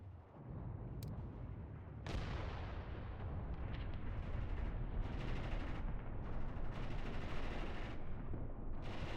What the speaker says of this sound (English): They are firing here in the forest.